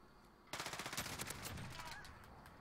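A sudden burst of rapid automatic gunfire in Call of Duty: Modern Warfare, close and sustained for roughly a second and a half before trailing off into game noise.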